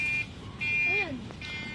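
A buzzing electronic alarm in a home sounds in two short bursts with a steady tone, a brief pause between them, while a person speaks over it.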